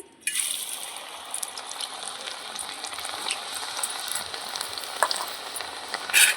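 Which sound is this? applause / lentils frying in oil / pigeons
lentils frying in oil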